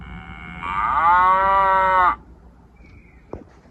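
A single long cow moo plays from a farm animal sound book, loud and close for about a second and a half, ending abruptly with a soft click afterward.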